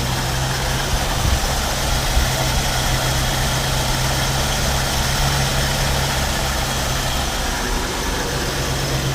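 A 1968 Mustang's 289 V8 engine idles after a carburetor rebuild. It makes a steady, loud, low rumble close by that holds even for the whole stretch, with no talking.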